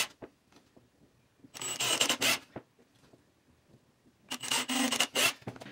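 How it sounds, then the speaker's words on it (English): Two bursts of grinding, rasping noise as a 1/8 inch bit drills pilot holes in wood, each about a second long, separated by quiet handling sounds, close up and fairly loud. "I'm using a 1/8 inch drill bit."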